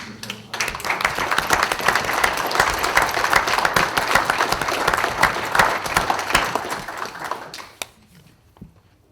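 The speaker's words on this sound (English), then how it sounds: "we should give him a round of applause for his service" Audience applause for a veteran's service at a Vietnam Moratorium Committee panel, loud dense clapping from a full room that swells, holds steady, then tapers off to a few stray claps.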